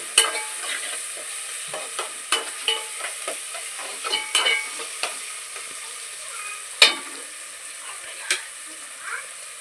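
Tomatoes and onions frying in a pan for a chicken and drumstick curry, a steady close sizzle broken by repeated scraping clicks of a spoon stirring, with no talk.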